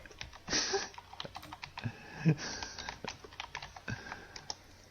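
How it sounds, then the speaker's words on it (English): Keys clatter on a computer keyboard during a card-game cube draft, with irregular bursts of fairly close tapping and a few heavier strokes, no one talking. "What are you typing?"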